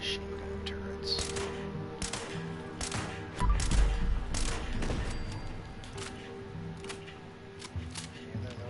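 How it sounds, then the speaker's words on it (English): Machine gun turrets firing in Fallout 76, heard as scattered bursts of rapid gunfire over a low game background, moderately distant, with a heavier thumping stretch midway. "Machine gun turrets."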